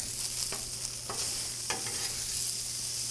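Chicken and fried rice are stirred together on a Blackstone griddle, a spatula scraping and turning through a constant loud sizzle, with a few distinct scrapes standing out close by.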